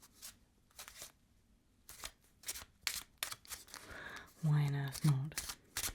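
Playing cards riffle and snap in a string of crisp bursts, close and fairly loud, with a soft voice speaking briefly between them.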